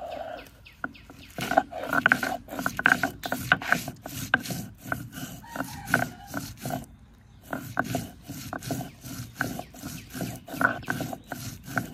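Dried chili and salt being ground on a traditional grinding stone in a Bangladeshi village kitchen, a steady series of rough scraping and rubbing strokes, close and moderately loud, with a brief pause partway.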